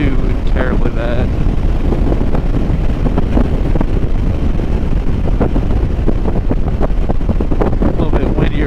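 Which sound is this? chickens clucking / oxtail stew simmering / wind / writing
wind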